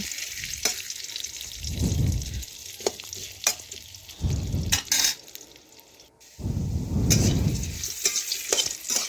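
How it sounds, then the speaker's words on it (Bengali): Potatoes frying with salt in a pan, heard as three loud bursts of sizzling and stirring with quieter stretches between them, close up and with no voices. "এই দেখুন লবণ দিয়ে ভেজে নিচ্ছি"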